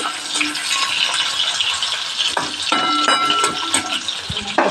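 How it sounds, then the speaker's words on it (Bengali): Spices are stirred in hot oil in a wok, with a continuous loud sizzle and frying crackle and scraping stirs throughout, up close. "তার জন্যে আমি এগুলো ভালো করে কড়াইয়ে নেড়ে নেব তেলে।"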